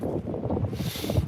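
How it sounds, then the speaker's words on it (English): Strong outdoor wind buffeting a microphone, a constant loud low rumble with gusty fluctuations and no speech. "Guys, it's really windy right now."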